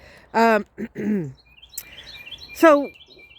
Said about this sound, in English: little wren. Oh, you have a beautiful song.